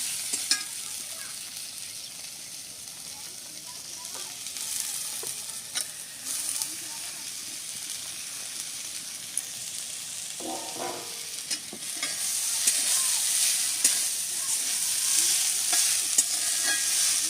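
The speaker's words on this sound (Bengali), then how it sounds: "হলুদ গুঁড়ো দিয়ে সবজিতে বেশ ভালো করে মাখিয়ে নিয়েছি, বেশ সুন্দর করে মিশিয়ে নিয়েছি।" Ridge gourd coated with turmeric powder is stirred in a pan, giving a soft continuous sizzle with scraping and shuffling spoon strokes up close that grow busier near the end, with no one talking.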